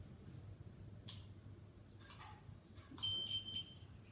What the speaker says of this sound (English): The double beep signifies that the changes have taken effect in the unit.